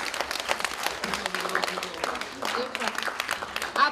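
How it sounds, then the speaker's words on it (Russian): Applause at an official staff recognition ceremony in a district administration hall, fairly faint and continuous, with voices mixed in. "Аплодисменты."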